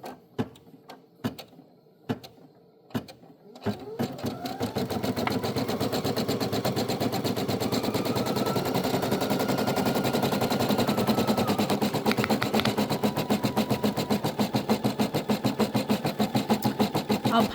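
A Brother PE800 embroidery machine works on a first beginner project. A few separate mechanical clacks come first, then the machine settles into fast, continuous, rhythmic stitching that stays loud and steady.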